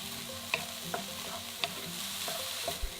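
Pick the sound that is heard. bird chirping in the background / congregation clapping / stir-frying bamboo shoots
stir-frying bamboo shoots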